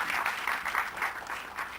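Steady crowd applause fills a room at the Mary Kom film trailer launch, a dense, even wash of many hands clapping with soft swells and no talk.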